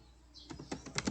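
A website address is typed on a computer keyboard in a short burst of several quick, close keystrokes in a quiet room.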